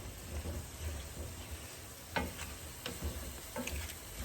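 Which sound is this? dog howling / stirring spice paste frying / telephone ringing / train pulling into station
stirring spice paste frying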